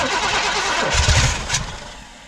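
An old drag car pulled from a scrapyard cranks and fires up, the engine catching with a loud rough roar and a quick rev before settling, close and alone.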